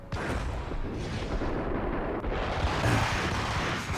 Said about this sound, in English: I'm throwing grenades here trying to take out dudes